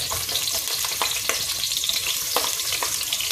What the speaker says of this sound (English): I'm going to allow it to fry for about 5 minutes